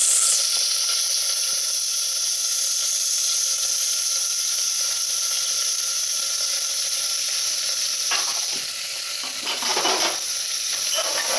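Onions hit hot oil already holding green cardamom, cloves and cinnamon stick for a mutton curry, a strong continuous sizzle with a high steamy hiss, followed by stirring scrapes and rustles near the end.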